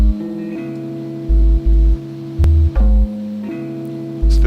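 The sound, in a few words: guitar sample chops played solo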